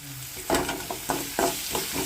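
Utensil stirring dried red chillies and lentils in hot oil in a pan, with repeated scraping strokes over a steady light sizzle, close and moderately loud.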